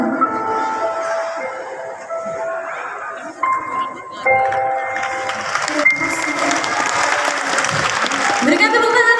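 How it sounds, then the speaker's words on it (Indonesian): Audience applause rising after a children's poem performance by a music studio group at an outdoor cultural park event, clapping building from moderate to a dense, sustained burst while a voice talks over it. "Berikan tepuk tangan yang luar biasa untuk Sai dan Esa"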